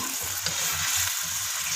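Chicken frying on high flame for korma, a dense close sizzle with rhythmic stirring scrapes pulsing roughly every quarter second, no voices.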